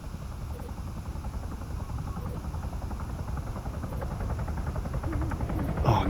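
A helicopter in the Arma 3 video game, a steady rotor drone with a rhythmic chop that grows slightly louder over several seconds, ending in a brief sharp burst.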